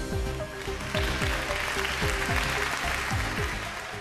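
Audience applause and whistles at a competition round on a TV drama set, a steady clapping wash over a rhythmic music track.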